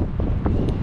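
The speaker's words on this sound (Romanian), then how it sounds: "E un vânt rece" Steady cold wind buffeting a microphone on the deck of the warship Aurora, a low continuous rumble with faint gusty rustles, close and fairly loud.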